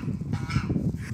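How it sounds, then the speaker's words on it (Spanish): A goose honks in a few short, nasal bursts, close and fairly quiet over a muffled low background rumble. "El ganso asesino."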